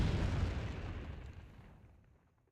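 A bomb explosion in the video game Entropia Universe: one loud, deep, rumbling boom that starts at full strength and fades away over about two seconds.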